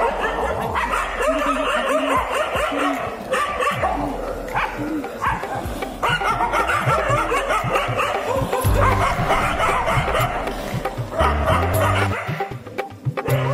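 A dog barks and yips repeatedly close by in a busy, noisy household scene, with scattered voices and other background sounds underneath.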